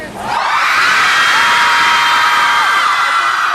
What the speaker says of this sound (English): I need everybody in here to scream.